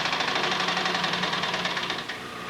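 A sewing machine top stitches a boot pattern with a fast, even mechanical chatter heard up close, running steadily and then easing off slightly near the end, with no talking.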